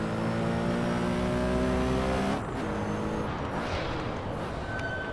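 A Porsche 917K race car in the Assetto Corsa racing game revs loudly with a harmonic engine drone that drops sharply midway, then carries on at a rougher, lower pitch.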